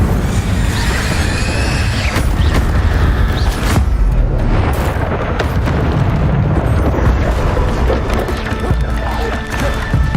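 Incendio fire spell cast in Hogwarts Legacy, a loud, dense roar of bursting flame and crashing booms that fills the whole stretch, with shouting voices mixed in.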